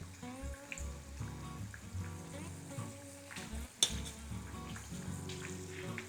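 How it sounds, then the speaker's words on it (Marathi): Churros fry in hot oil as they are turned, a moderate bubbling sizzle with faint tonal sound in the background and one sharp clink near the middle. "आपल्याला मधनं टर्न करायचं आहे सो दॅट हे इव्हनली फ्राय होणार."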